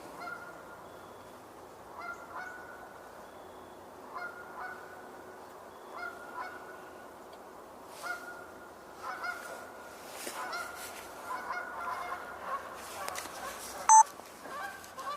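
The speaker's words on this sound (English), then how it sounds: "The geese that are vocalizing, I'm not sure where they are" Geese honking near water outdoors, repeated moderately distant calls every second or two that become busier and more overlapping toward the end, in a quiet open setting.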